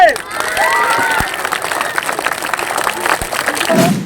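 An audience at a street magic show breaks into applause and cheering after a trick, lively and fairly close, with voices calling out over the claps.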